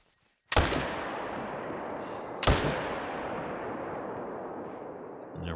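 Two loud rifle shots fired at a tiger in theHunter: Call of the Wild, each a sharp crack followed by a long rolling echo that fades slowly, the second about two seconds after the first.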